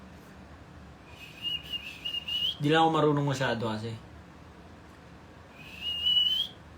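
A person whistles a short, high, wavering tone, then speaks briefly over a low background, then whistles again at the end; the whistles are clear and close.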